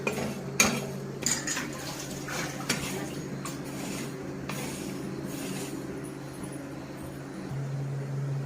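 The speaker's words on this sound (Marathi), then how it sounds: "मेथी दाणे पण भाजले।" Fenugreek seeds roasting in a hot pan while green chili pickle is being prepared: steady scraping, stirring and clinking of a utensil against metal, with a few sharper knocks near the start, close and moderately loud.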